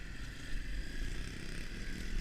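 A 2020 Honda CRF250F dirt bike on a trail ride gives off a steady, fairly distant engine drone that holds at an even, moderate level for the whole short stretch.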